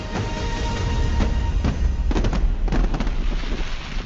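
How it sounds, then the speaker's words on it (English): Fireworks burst continuously at a New Year's celebration by a mountain climbing club, with dense crackling and booming layered over a steady rumble and several sharper close pops standing out. "Who doesn't love fireworks?"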